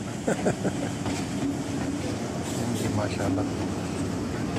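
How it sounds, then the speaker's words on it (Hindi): A train pulls into a station on the Jhelum to Lahore line, with a loud, steady rail rumble and wheel clatter filling the clip while someone speaks briefly over it. "लो दोस्तों, ट्रेन आ गई, इसका आनी जानी भी देखें आप।"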